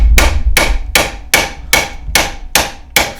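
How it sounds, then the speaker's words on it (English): A hammer taps a Suzuki DR650 rear shock eight times in a steady rhythm, each strike a sharp, close metallic knock with a short ring. "Then I like to tap it with a hammer."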